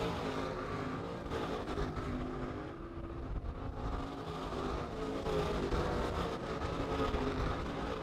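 Dirt late model race cars roar around Modoc Raceway in a steady, loud wash of engine noise that swells slightly as the field passes, with no one talking.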